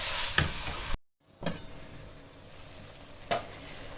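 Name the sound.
cabbage, mince and potato curry stirred and cooking on low heat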